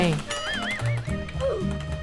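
Video game horse in Roblox Hide & Seek Extreme, a whinny with wavering pitch rising over steady hoofbeat-like thumps, close and loud, with a voice speaking alongside.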